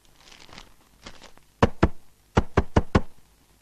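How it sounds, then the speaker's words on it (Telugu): Knocking on a house door, first a few soft faint taps, then two loud sharp knocks followed by a firm series of four raps, close by with no talk. "ఎంత ధైర్యంగా తలుపు కొడుతున్నాడో"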